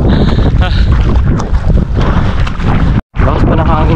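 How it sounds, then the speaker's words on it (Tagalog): Strong wind batters the microphone on a Philippine shoreline during a shore-casting fishing trip, a loud, steady rumbling roar with one brief dropout, and a voice is heard faintly. "Lakas pa ng hangin guys"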